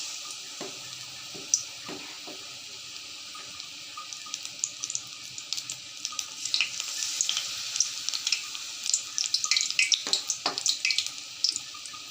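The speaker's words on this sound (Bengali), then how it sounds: "এখন ব্যাটারে চুবিয়ে চুবিয়ে আমি এগুলোকে ফ্রাই করে নেব।" Battered cauliflower pakoras fry in hot oil, a steady close crackle with scattered louder pops and spattering bursts that grow busier toward the end.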